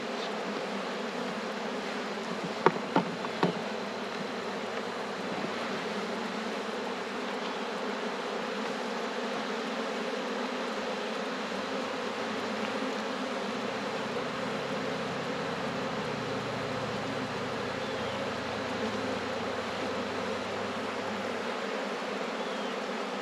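Honey bees buzz steadily in an opened hive during winter farm chores, a dense continuous drone with a few faint knocks near the start and no voices.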